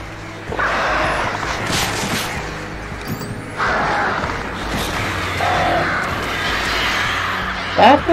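Attacking birds in a horror video game caw in bursts over a dense, continuous ambient bed, with crashing game noise and loud swells near the end.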